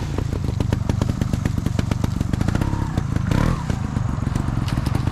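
A motorcycle rides on and off an obstacle while practising floater turns. Its engine runs close with a steady, throbbing putter, and a brief clattering scrape cuts in partway through. No one speaks.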